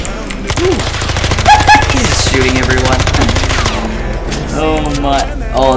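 Rapid automatic gunfire from the video game Electric State, a dense, continuous burst of shots rattling loudly across most of the stretch, with game effects and brief chatter layered beneath.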